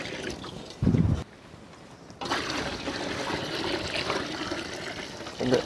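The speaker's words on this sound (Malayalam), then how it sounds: "നമുക്ക് വെള്ളം ഒഴിച്ചു കൊടുക്കാം." Water poured into a pot of rice for Kerala-style fish biryani in a village kitchen, a short splashing burst, then a longer steady pouring and trickle with a brief final splash.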